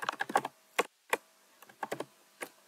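Computer keyboard keys clatter in quick irregular bursts as CSS code is typed, close and crisp, with several separate taps and brief pauses between clusters.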